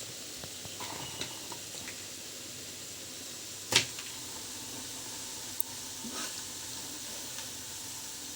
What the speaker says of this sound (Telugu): ఇది ఇంకొకటి వేసారనమాట, ఫ్రై అవుతుంది.